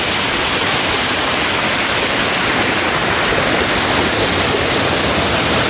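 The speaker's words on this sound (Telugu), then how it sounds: "అండ్ ఇది మినమలూరు వాటర్ ఫాల్స్ అనమాట" The Minamaluru waterfall pours down in a constant, full roar of rushing water, close and loud and unbroken throughout, with no one speaking.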